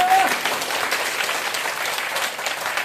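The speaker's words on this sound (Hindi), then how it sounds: "मैं दिल से तालियां चाहता हूं सर के लिए" Audience applause at a company event honoring its founders, a steady wash of clapping from a crowded room, moderately loud and continuous, with a brief voice at the very start.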